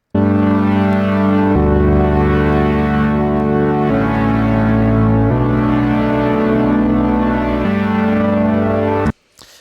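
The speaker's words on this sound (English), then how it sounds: "So obviously much less bright now. We've implemented a low pass filter." Serum saw wave synth chords run through a low pass filter, duller and rounder in tone, sustained chords shifting every couple of seconds and then stopping suddenly.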